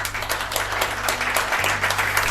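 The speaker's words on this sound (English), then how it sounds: "give these gentlemen a round of applause" An audience claps and applauds for two gentleman guests on a talk show, a steady, dense wash of clapping lasting a couple of seconds.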